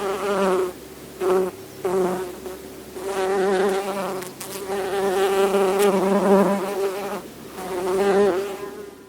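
A human voice imitates a bee's buzz while breathing out in Zazen meditation, producing long droning hums in several sustained breaths separated by short pauses.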